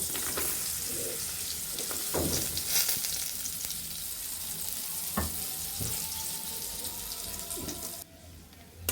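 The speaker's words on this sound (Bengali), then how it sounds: "আমরা তালে বড়িগুলো তেলে ভেজে নিব" Continuous sizzling of lentil dumplings frying in oil in a wok, a dense hiss with a few sharp ticks and pops, no voices.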